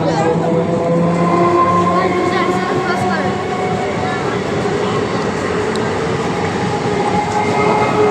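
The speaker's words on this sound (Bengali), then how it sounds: "ট্রেন চলে গেল" A train rolls past close by, a loud continuous rumble of wheels and cars with rail squeal tones over it for the whole stretch, heard without talk.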